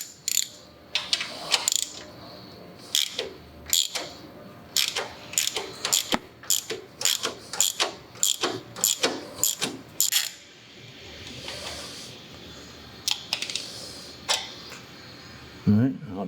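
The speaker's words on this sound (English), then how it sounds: "Now we're just going to loosen the 2 bolts that hold the solid motor mount in place." A hand ratchet loosens the two bolts holding the solid engine mount on a Harley motorcycle, with rapid clicking strokes repeated in bursts up close as a person talks.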